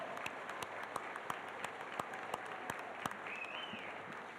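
A high school graduation audience applauds in a large room, a continuous wash of clapping with a few sharp claps popping out, heard at a moderate distance and fairly quiet.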